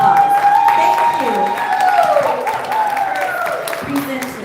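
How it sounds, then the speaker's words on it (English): An audience gives a round of applause at an app launch event, scattered clapping running beneath a prominent voice that carries over it throughout. "Give them a round of applause, everybody."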